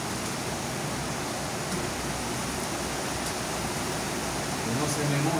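Steady, dense hiss of a heavy rain downpour in Panama, even and unbroken, with a faint low murmur near the end.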